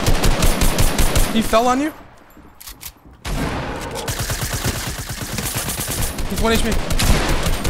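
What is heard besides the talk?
minigun firing in a video game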